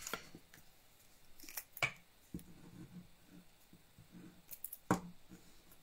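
Scissors snip through paper in a craft session, a few quiet, sharp separate cuts spread across a mostly hushed moment.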